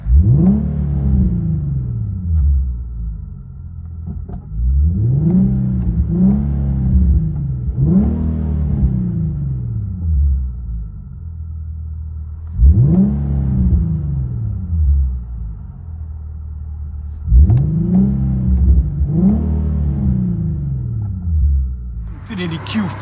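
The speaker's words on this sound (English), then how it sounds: "INFINITI Q50 Borla True Duals in the center with Flow FX rears." A 2015 Infiniti Q50 with a 3.7L V6 and Borla True Dual exhaust, Flow FX rear mufflers, revs repeatedly from inside the cabin, deep rising-and-falling blips in bursts, loud and close.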